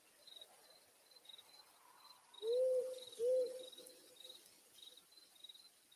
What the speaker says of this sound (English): Do y'all hear my owl? I thought it would be a nice little ambient sound